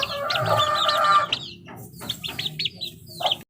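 Young chicks cheep and peep in quick, high bursts at close range while being caught by hand, and a hen clucks loudly near the start.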